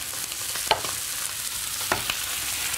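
Lough Neagh pollan fillets fry in a pan with butter, giving a steady broadband sizzle with a couple of sharper pops and spits, close and fairly loud with nobody talking.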